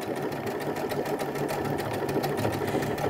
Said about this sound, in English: the machine is now going to complete the stitch that it's on